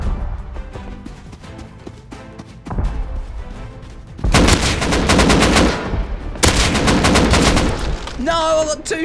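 Rapid gunfire in Rust with a semi-automatic pistol, starting as scattered distant pops over ambient noise, then erupting into two long, loud, close bursts of dense shots, followed by a faint voice.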